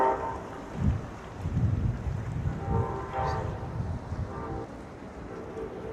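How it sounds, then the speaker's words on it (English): A distant Amtrak train whistle sounds faintly near Mystic, Connecticut, rising briefly a few times over steady outdoor background noise and low rumble. "Now I hear a whistle in the background."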